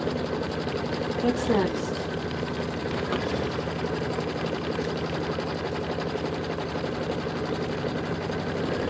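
A Kimberbell embroidery machine stitches a tack-down line in the hoop, a steady continuous whirring hum that runs throughout while a person speaks briefly.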